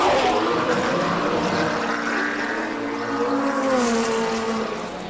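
A Pilbeam MP58 race car climbs a hillclimb course, its engine note rising and shifting pitch as it accelerates up the hill at moderate distance, with a faint voice briefly in the background.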